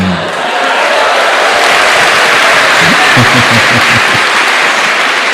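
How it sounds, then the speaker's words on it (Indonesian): Loud, steady applause from an audience fills the space, a dense continuous clatter of many hands clapping close by with a faint voice underneath. "kalau sudah hampir selesai ini tepuk tangannya buanter ini ya"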